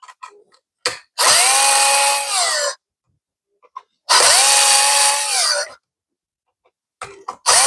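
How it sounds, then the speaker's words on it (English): Power drill backing screws out of an electrical outlet, two loud sustained whirring bursts of about a second and a half each with a pitch drop at the end, separated by quiet pauses and small clicks. "I normally don't take them all the way off because it just puts a lot of strain on the drill for no reason."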